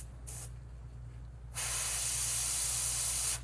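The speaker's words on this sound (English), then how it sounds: "I know a lot of people like to spray on lower pressures, but I'm just barely pulling back to release any paint." An airbrush at 60 psi sprays paint onto a fishing lure, giving a short hiss, a pause, then a long, loud, steady spray that cuts off at the end, with no talk.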